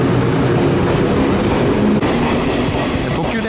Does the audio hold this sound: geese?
no